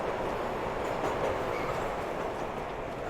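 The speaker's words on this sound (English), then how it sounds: "do you hear the train going overhead?" A train rumbling past overhead in The Bus game, a loud, steady roar of rolling wheels and rail noise that fills the whole moment without any voices.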